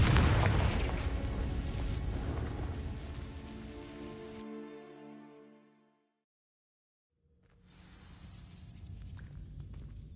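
A Confringo fire spell in Hogwarts Legacy igniting dry vines: a loud crackling, rushing burst that swells and fades into a decaying ringing tone, silence, then a softer rumbling crackle returning.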